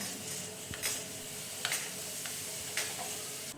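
Cabbage vegetable cooking in a home kitchen pan, with a steady low sizzle and several short scraping stirs and light clicks spaced a second or so apart, fairly close and without speech.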